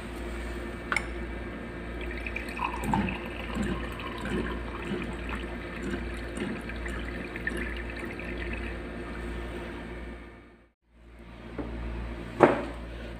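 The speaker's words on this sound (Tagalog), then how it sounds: "Tapos, lagyan natin ng tubig." Quiet trickle of water filling a container for several seconds, with a brief pause and a small clink near the end; no talking.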